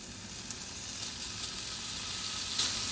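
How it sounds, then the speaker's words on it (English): Bacon sizzling in a non-stick pan, a steady dense crackle and hiss that holds evenly throughout, close and continuous with no talk. "let's start by getting the bacon into the pan"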